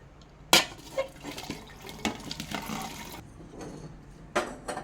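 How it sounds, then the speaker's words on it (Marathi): Water is strained off cooked raw mango, with splashing and pouring liquid, a sharp knock at the start and again near the end, soft and close with no talk. "आता याचं पाणी गाळून घ्यायचं आहे आपल्याला."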